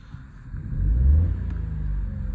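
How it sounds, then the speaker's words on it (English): A Vauxhall Corsa D three-cylinder engine idles steadily with a low, smooth rumble, swelling briefly as it revs slightly before settling back to an even hum. "it does sound like a Swiss watch, that engine"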